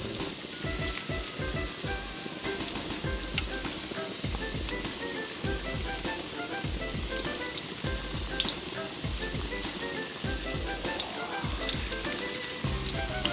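Food frying in hot oil for a home-cooked Isan meal, a steady close sizzle with rhythmic popping and spattering running throughout, almost no voice.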